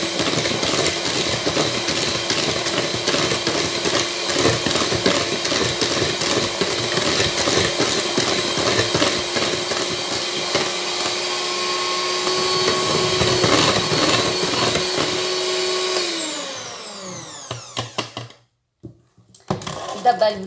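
An electric hand mixer beats eggs, sugar, oil and yogurt for a cocoa cake with a loud, steady whirring drone. The motor winds down near the end, followed by brief clatter.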